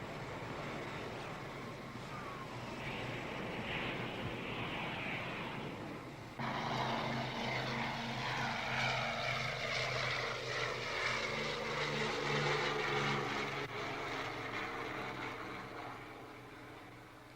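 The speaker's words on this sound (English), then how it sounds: "They count the planes as they come in." Military jet planes return and land at Da Nang airbase, a steady loud roar of engines growing and shifting as aircraft come in, with no talking.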